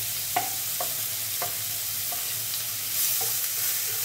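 Spice masala frying in oil until golden brown, for a potato-cauliflower curry; a constant close hiss of sizzling oil with regular spoon scrapes roughly every second.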